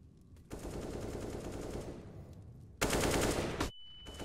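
Automatic gunfire from a professional CS:GO esports match, with two long, loud bursts of rapid shots separated by a short pause, followed by a brief high electronic tone.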